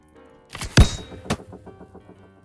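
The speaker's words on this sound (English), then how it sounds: "pick up the arquebus, and load it. Now then, we can actually shoot it." An arquebus fires in the video game Vintage Story: a single sharp, loud report with a bright crack and a short rumbling tail, alone with no talking.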